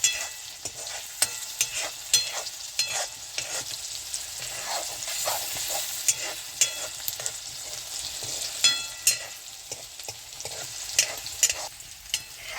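Onions, green chillies and tomatoes fry gently over low heat in a pan, a soft steady sizzle broken by frequent clicks and scrapes of stirring, close and fairly quiet with no voices.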